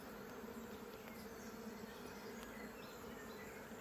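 Honey bees hum and buzz steadily inside an open hive, a close, continuous drone with faint handling noises and no talking.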